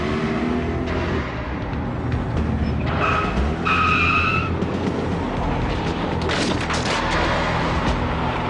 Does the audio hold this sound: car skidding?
yes